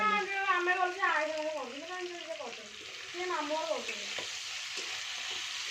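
A vegetable fries and splutters in a pan on a home stove, with a continuous sizzle and scattered crackles. Someone talks over the first part, and the sizzling carries on alone afterwards.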